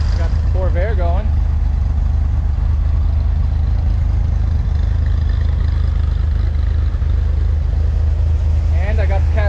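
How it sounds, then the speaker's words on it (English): A Chevrolet Corvair idles with a constant, heavy low rumble and slight clatter while other cars warm up nearby; someone talks briefly at the start and end. "I got the Corvair going."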